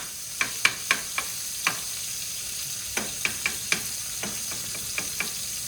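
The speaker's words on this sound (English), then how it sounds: "Let the butter melt." Butter melting in a pan beside a steak, giving a faint steady sizzle under a series of sharp clicks and taps from a utensil, about a dozen over several seconds, with no talking.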